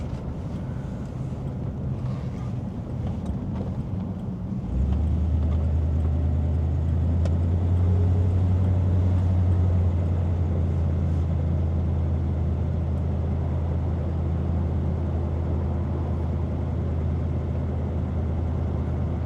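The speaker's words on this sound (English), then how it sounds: "Nice deep exhaust note, definitely some aftermarket exhaust." A 1957 Ford Fairlane 500 Skyliner retractable with an aftermarket exhaust. Its deep engine drone swells in after a few seconds and holds steady and loud under rushing wind noise, with no talking.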